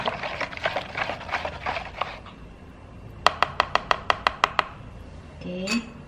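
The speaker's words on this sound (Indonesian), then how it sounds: "Kita aduk lagi dulu sebentar." Brownie batter is stirred in a bowl: soft scraping strokes first, then a quick run of about ten sharp taps of the utensil against the bowl, fairly close and without talk.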